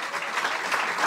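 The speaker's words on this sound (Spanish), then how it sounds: "Fuertes aplausos a nuestro Dios." Brief burst of church congregation applause, a dense even patter of many hands clapping at moderate volume with no voices over it.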